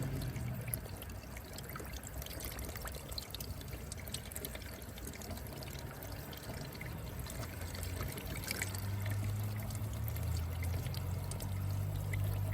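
Coolant water flushing out of a 1995 Ford F-150 heater core, a steady close pouring and splashing stream that holds constant throughout and grows slightly fuller toward the end.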